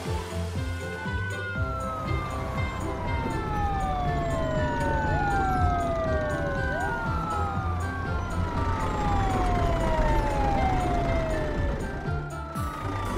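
Several wailing emergency sirens overlap continuously, rising and falling in sweeping tones, thin and toy-like, with faint clatter underneath.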